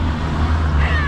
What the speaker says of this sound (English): Hungry kitty, eh?